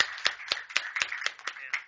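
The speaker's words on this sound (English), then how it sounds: "let's applaud Dr. Clement." Audience applause after a leadership talk and Q&A session, a steady patter of claps with sharper bursts roughly every quarter second, moderately close and continuous through the short span.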